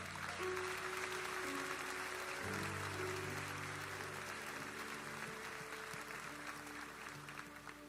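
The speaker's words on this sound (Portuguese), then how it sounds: "Pode aplaudir o Senhor." Applause fills a worship gathering at a church event, steady crowd clapping running throughout with sustained music chords beneath it, fairly quiet and distant.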